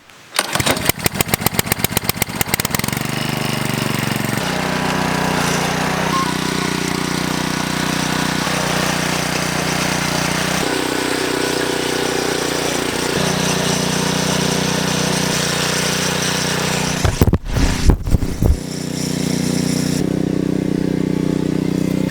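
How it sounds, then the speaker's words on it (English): A garden tiller engine starts with rapid sputtering pulls, then runs loud and close at a steady chug while tilling soil. Its pitch shifts as the load changes, and it briefly revs and bogs near the end. "I'm gonna start at this tiller and see if the ground's dry enough for me to finish tilling this lower section of the garden"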